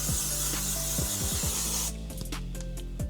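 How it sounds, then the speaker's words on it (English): A close hiss of spray misting out in a steady burst for about two seconds, followed by a few short quiet puffs. "setting spray."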